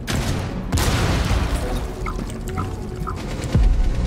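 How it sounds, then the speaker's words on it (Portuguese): Heavy gunfire in the game Rainbow Six rattles in bursts with occasional booms over a constant, dense background of shooting. "Muito tiro, mano. Muito tiro,"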